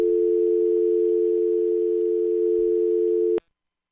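A steady, loud telephone dial tone drones evenly for over three seconds, then cuts off abruptly into silence.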